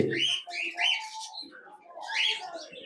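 Caged birds at a market in Mirpur, where doves, mynas, parakeets, finches and cockatiels are sold, give bright chirps and whistled calls in a quick series of bursts, fairly close and moderately loud.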